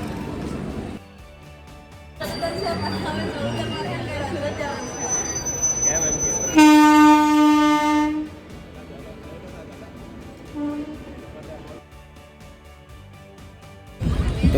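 A train arrives at a crowded railway station in Gujarat. Its loud horn blares for about a second and a half over steady crowd hubbub, with people talking nearby before and after.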